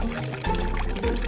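Water is poured onto soil in a flower pot, a short steady splashing pour lasting about a second, close and fairly loud with no talking.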